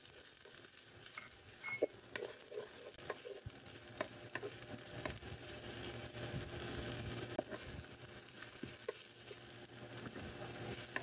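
Chopped ginger frying in a little oil, a soft steady sizzle with scattered stirring clicks and utensil taps, close up and with no talking.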